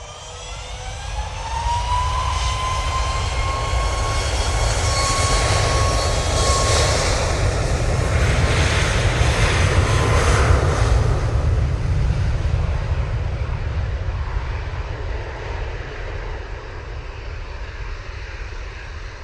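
An airplane takes off at Manchester Airport with a loud, sustained jet roar that swells and holds steady for most of the stretch, a rising engine whine threading through it, then eases slightly toward the end.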